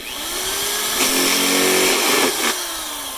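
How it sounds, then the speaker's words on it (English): A loud, steady whine of a power drill boring a hole in the top of a plastic bottle, running for about three seconds, with its pitch rising briefly in the middle as the bit bites in, no talking. "you drill a hole in the top"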